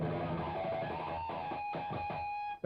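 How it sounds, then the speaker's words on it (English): Electric guitar picked close to the nut, scraping out high ringing harmonics: a few faint, shimmering overtone notes that sustain and fade, then cut off abruptly. "He's scraping notes and getting these real high harmonics."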